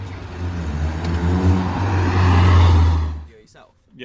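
A Peugeot 205 GTI engine, just dropped to fourth gear on a country road, revs hard with a strong, steady low drone that swells as it climbs, then cuts off sharply near the end.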